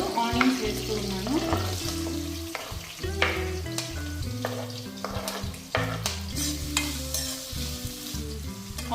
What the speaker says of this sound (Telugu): గ్రీన్ చిల్లీ కొంచెం ఫ్రై అయిన తర్వాత ఇప్పుడు ఆనియన్స్ వేస్తూ ఉన్నాను.